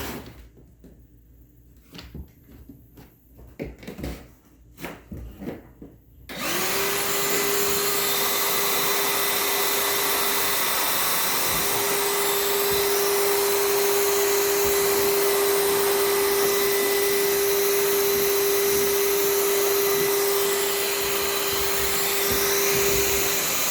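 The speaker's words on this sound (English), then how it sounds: "It turned into a little mini blower." A Ryobi 18V ONE+ 3-gallon wet/dry vac with its hose on the exhaust port runs as a blower, kicking on after a few clicks of handling and holding a loud, steady whine to the end.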